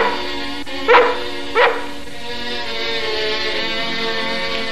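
A female dog gives two sharp barks close by over a steady hum of background music, then whimpers faintly as the music continues.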